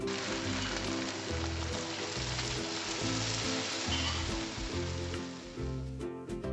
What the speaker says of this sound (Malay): Sekarang kita goreng mi